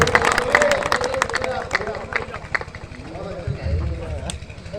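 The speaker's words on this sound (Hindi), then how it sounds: "एक बार चाहता हूं कि आप जोरदार ताली बजाकर स्वागत करें" An audience at a Hindi poetry gathering (kavi sammelan) breaks into loud clapping, a dense roar of many hands that thins out, heard close with crowd murmur and a voice speaking over it.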